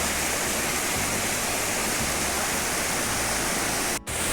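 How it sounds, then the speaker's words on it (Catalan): A river being waded across on a hiking trail rushes steadily, a dense close hiss of flowing water with a brief dropout near the end. "comencem a travessar el riu, el primer pas, que hem d'anar per dintre"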